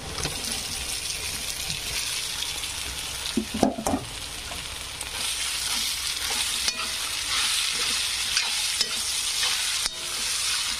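Poha is tipped into a pan and stirred with onion that has already been fried, making a close, continuous sizzle with scraping stirs and a brief clatter of spoon against pan.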